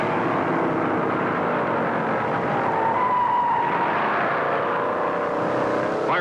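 Stock cars racing at the 1960 Daytona 500 just after the green flag, in a field that includes Ford, Oldsmobile, Buick and Pontiac entries: a loud, continuous engine roar that swells slightly midway, with no voices.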